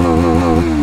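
A motorcycle exhaust revs hard near the mic, a loud, throbbing single-cylinder burble that holds high and then dips slightly.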